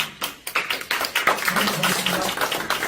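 An audience at a Christian literature event applauds after a poetry reading: close, sharp individual claps at first, quickly building into dense, continuous applause with some voices underneath.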